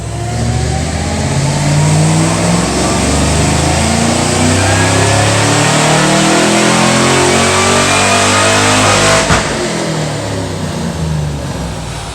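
A car engine revs hard and steadily on a chassis dyno with the hood open, a loud sustained roar that holds through the run with a brief shift near the end.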